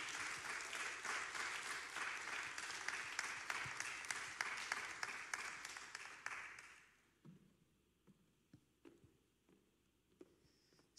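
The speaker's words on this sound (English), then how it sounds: "Y'all clap for her." A church congregation at New Bethel applauds a member coming to the stage, with dense clapping for about seven seconds that then fades to a few scattered claps and quiet room noise.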